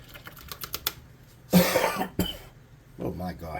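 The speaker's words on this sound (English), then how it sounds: "Coughing and dying." A person coughs hard, a loud harsh burst following light tapping and clatter in a craft workspace, with some breathy throat noise afterward.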